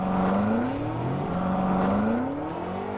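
A BMW M8 launches off the line in a drag race against a Nissan GT-R and a Ferrari V12, its engine roaring loud and steady as the pitch climbs through gear changes for about three seconds, with no talk.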